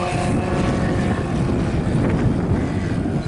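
A model aircraft engine drones steadily through an aerobatic loop at an air show, heard as a continuous broadband roar heavily mixed with wind noise.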